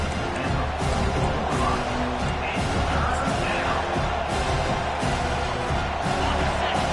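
A home crowd at a college football game roars steadily through a third-down play, a dense, continuous wash of cheering and noise that fills the stadium without pause.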